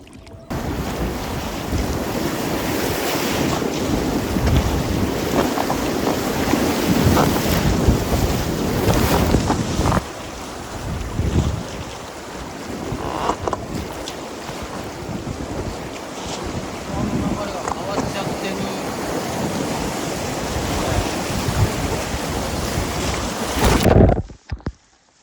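Strong wind buffets the microphone on a river during a solo packrafting trip on the swollen Arakawa at Nagatoro after a typhoon, a loud continuous roar with gusty swells and the rush of water beneath.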